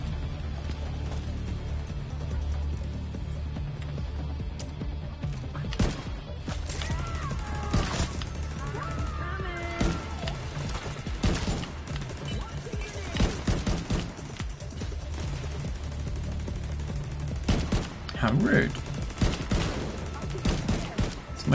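Automated gun turret firing in The Division 2 shooter game, repeated rapid bursts of gunfire spread across the stretch at moderate distance, mixed with crashes, mechanical noises and faint background speech.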